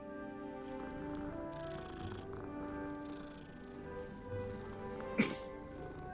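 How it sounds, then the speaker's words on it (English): Purring and soft meows from a cat in a wizard-themed video game, steady and close over a layered musical game soundtrack, with one sharp louder hit near the end. "Oh, it's another cat."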